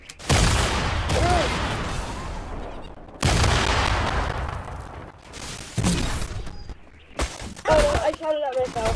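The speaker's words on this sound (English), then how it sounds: "You got people shooting at me." Bursts of gunfire in the video game Fortnite, with loud broadband blasts repeating in irregular clusters over several seconds, mixed with other game effects and a voice talking now and then.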